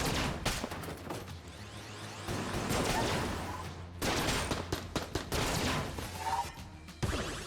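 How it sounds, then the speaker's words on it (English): Rapid bursts of laser rifle fire in the Enter the Gungeon video game, each trigger pull releasing a triple volley, repeating in dense clusters with explosive hits and whooshes throughout. "Every time we pull the trigger, the laser rifle is firing 3 times"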